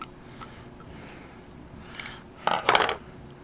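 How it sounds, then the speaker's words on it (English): A loose part rattles inside an airsoft gun being shaken, faint scattered clicks at first, then a couple of louder, denser bursts of rattling near the end. "What is rattly in there?"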